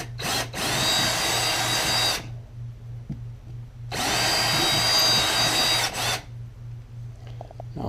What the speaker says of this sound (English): I can drill it a little bit bigger just to make sure the anchor fits.